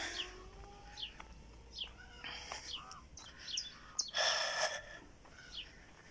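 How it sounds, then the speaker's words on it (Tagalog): Several birds chirp and tweet in short, scattered calls at varying distances over a quiet outdoor background, with a brief burst of noise midway. "May mga ibon dito, oh."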